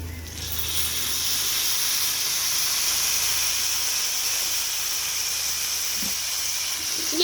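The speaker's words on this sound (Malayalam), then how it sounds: "കുറച്ച് വിനേഗർ ചേർത്ത് കൊടുക്കുക." Vinegar poured into hot anchovy pickle masala in a pan sets off a loud, sustained steamy hiss and sizzle that holds steady for several seconds.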